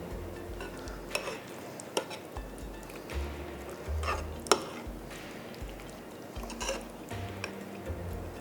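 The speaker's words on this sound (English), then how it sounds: "And we mix it up." Greek-style lamb burger mixture being mixed by hand or spoon in a bowl: soft squishing and stirring with light clinks against the dish, close and fairly quiet, with no talk.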